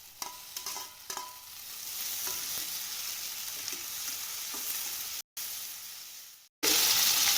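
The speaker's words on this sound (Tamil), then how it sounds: "இந்த ஸ்டேஜில் தக்காளி ஆட் பண்ணிக்கிறோம்." Tomatoes added to sautéing onions in a pan for parotta salna, a close crackling sizzle with a few early clinks and stirring, broken by brief dropouts before the frying resumes louder.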